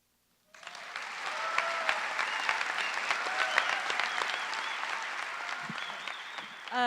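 Audience applause at a 2013 arts presentation event in Milwaukee, bursting in after a brief silence and holding as a steady, full round of clapping with faint crowd voices and whoops mixed in.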